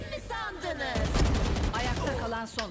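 Rapid bursts of gunfire in the tactical shooter Valorant, loud and close, with a dense volley in the middle; a couple chats in Turkish over the shots.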